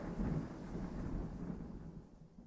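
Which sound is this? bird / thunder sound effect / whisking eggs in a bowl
thunder sound effect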